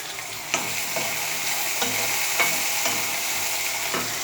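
Yardlong beans frying in a pan with sugar and chilli powder, a steady sizzle broken by several sharp scrapes of a spatula stirring at a regular pace, close and loud with no talk.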